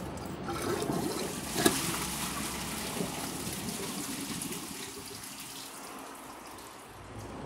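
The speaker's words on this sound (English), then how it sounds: "So, gotta wait for this to fill up. This is the original fill valve" A toilet tank refills through its original, non-adjustable fill valve, a steady hiss and rush of running water that holds for several seconds before tapering slightly.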